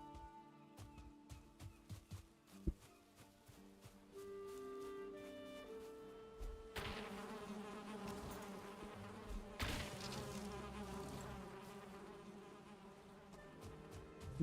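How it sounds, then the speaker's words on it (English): Bees buzzing around a bee's nest in the survival video game Valheim, a continuous insect drone that rises partway through and sits under game music and plucked tones. "I want to go get this bee's nest I see down here."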